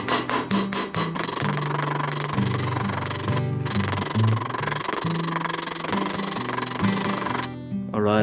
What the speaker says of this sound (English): switching to a flat polished hammer now